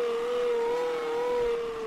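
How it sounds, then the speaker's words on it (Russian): Ambulance engine idling steadily in BeamNG.drive, a constant simulated motor drone with a strong even hum that holds at a fairly loud level throughout, with no voices. "Но двигатель работает."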